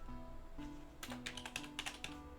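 Quick bursts of keystrokes on a computer keyboard, faint and close, clustered into a short run of clicks in the second half over a low electrical hum.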